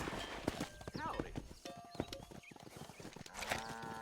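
Horse hooves clip-clop steadily while cattle are herded in the Red Dead Redemption video game, with occasional lowing and a whinny mixed into a busy outdoor soundscape as people talk.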